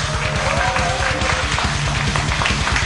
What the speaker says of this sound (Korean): 여러분의 큰 박수와 함성으로 첫 번째 경기를 시작했습니다.